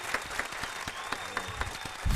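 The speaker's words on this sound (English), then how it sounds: "Get us a big round of applause right here." A round of applause from a festival-related audience, with scattered clapping running steadily through the moment and a little louder at the end.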